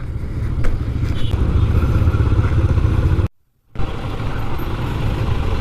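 A group of motorcycles rides the winding mountain road from Khagrachari to Sajek, making a loud, continuous engine rumble with wind noise that drops out briefly before resuming.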